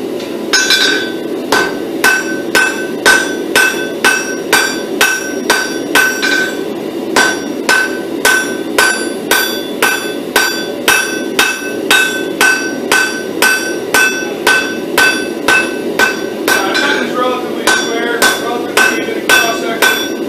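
Steel being hammered to draw down a pattern-welded sword blade toward a thin tip, a long run of loud, sharp, ringing hammer blows in a steady fast rhythm with brief pauses between bursts, close up.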